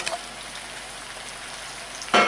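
Steady crackling sizzle of garlic chicken pieces frying in hot oil in a pan, with a sudden louder burst of spattering near the end.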